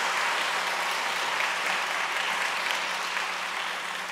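A congregation at a Sunday church service claps steadily for several seconds, a dense, even wash of applause with no break.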